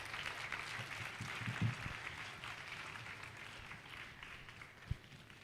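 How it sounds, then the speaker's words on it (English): A crowd applauding continuously, a soft, dense patter of many hands at a distance, with a few louder thumps. "let's give another round of applause to Dr. Ashraf Mutagubia"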